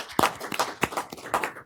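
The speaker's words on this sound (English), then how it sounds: "So could we have some applause?" Scattered, uneven hand claps from a small city council meeting audience, a few distinct sharp claps spread over under two seconds, fairly faint and sparse.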